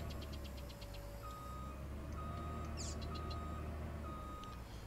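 A truck in the Farming Simulator video game reverses with a series of regular, evenly spaced beeps over a steady low engine drone, alongside a faint sustained tone and a brief high chirp.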